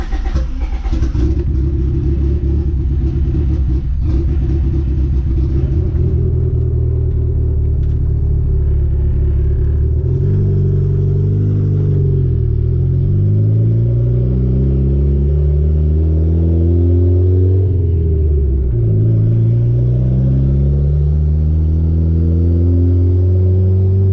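The turbocharged D15 engine of a Honda Civic drones while the car is driven, a loud steady rumble that rises and falls through several rev sweeps as it cruises.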